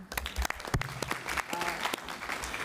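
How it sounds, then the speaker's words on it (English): Audience applause at an engineering innovation prize final, clapping spread across the room with a few sharper claps and some faint voices mixed in. "You guys give her a round of applause again."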